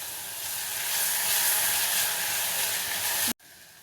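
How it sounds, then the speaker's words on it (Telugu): Green chillies and tomato sizzle steadily in a hot pan, a continuous bright frying hiss that holds for a few seconds before cutting off abruptly near the end. "పచ్చిమిర్చి కూడా వేసుకొని లైట్గా వేయించుకోవాలి."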